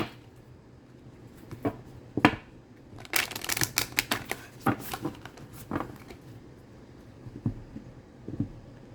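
Cards being shuffled in quick riffling bursts, close and clear, with short pauses between rounds and scattered softer snaps near the end.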